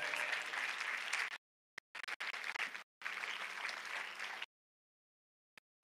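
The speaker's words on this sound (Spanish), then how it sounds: "Un aplauso al Señor." A church congregation claps in praise of the Lord in two bursts of about a second and a half each, separated by short scattered claps and followed by near silence.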